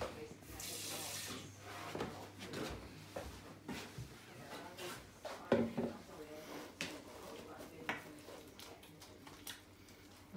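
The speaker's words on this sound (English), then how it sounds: "I'm going to add just a little spot of extra water" A little extra water trickles into bread dough mixing in a Lekue bowl, a faint running pour with soft clinks and handling noises in a quiet kitchen.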